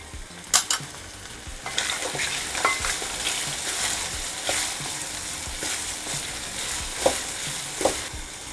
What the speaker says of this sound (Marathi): आता हिंग घालायचं आहे आपल्याला.